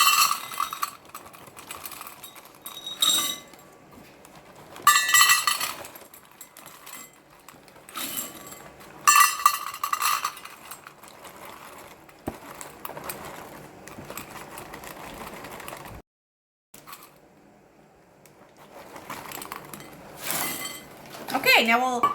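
Dry bran, three cups of it, is poured into a bowl for bran muffins, with repeated bursts of rustling and clinking against the bowl between pauses and a voice talking at times.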